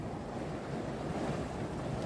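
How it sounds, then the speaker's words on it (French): Strong 25-knot wind roars across a sailboat at sea while waves rush and slap against the hull, a dense, continuous wall of gusting air and surf with no voices. "Il y a 25 nœuds de vent là"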